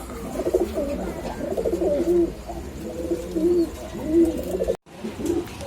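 Pigeon chicks for sale, Sylheti Kamakar among them, give repeated soft, throaty coos and burbling calls close by. The calls come in short rhythmic bursts with a brief gap near the end, and nobody speaks.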